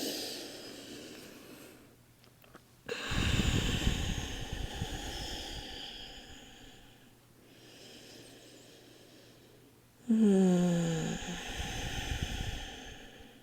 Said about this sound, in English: Breathing deeply here.